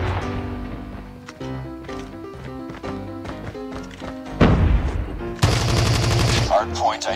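Gunfire from an overpowered weapon fitted with a Mythic Holger 26 skin in a shooter video game, heard as rapid bursts of shots over a steady music bed, with a louder, denser volley near the end.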